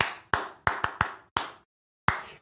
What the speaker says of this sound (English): How about if you clap this?